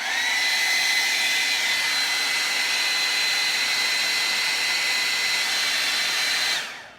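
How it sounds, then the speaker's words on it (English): A steady, loud hair dryer blows with a whining airflow hum for several seconds, then cuts off abruptly near the end. "You can kind of see how that hair dryer is kind of blowing that around"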